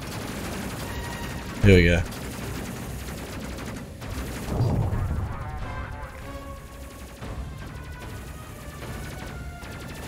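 An auto cannon fires in the space game Space Crew, with a sharp loud burst early on followed by fainter, scattered impacts and rumbling, while someone talks over the action.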